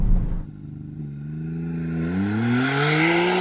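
McLaren Artura launching hard from a standstill in a 0-96 km/h acceleration run, engine note rising steadily through the revs with a gear change, loud and close, no talk.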